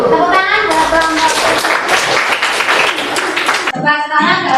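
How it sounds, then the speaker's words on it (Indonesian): A classroom of students in a teacher training session at Yogyakarta State University applauds a presenting group, with a burst of close clapping for about three seconds between stretches of talk. "Tepuk tangan buat kelompok."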